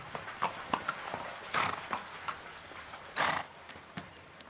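A horse moves about inside a room, with a few sharp hoof clip-clops and two louder bursts of snorting or blowing at moderate distance, with no voices.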